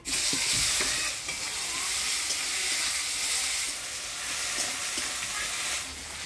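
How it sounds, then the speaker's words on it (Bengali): Chopped onion fries with dry red chilli, whole cumin and bay leaf in hot oil for a pangas fish curry, a loud continuous sizzle with occasional stirring scrapes throughout. "পেঁয়াজটা একটু লাল লাল করে ভাজি নিলাম"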